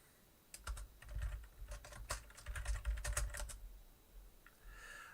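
Heavy, close keystrokes on a computer keyboard during a Skytear Clash game session, rattling in a quick irregular run of clicks and thumps that tapers off near the end.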